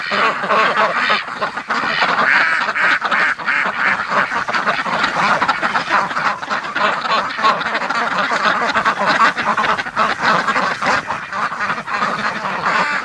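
A flock of breeding ducks searching for dirt keeps up a loud, unbroken stream of overlapping quacks close by, harsh and chattering throughout.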